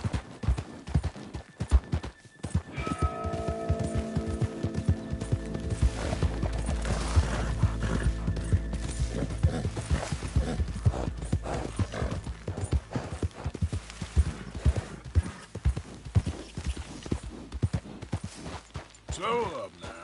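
Horse hooves clip-clopping at a gallop in a PS4 video game, a rapid rhythmic clatter with a whinny and brief spoken words over the game sounds.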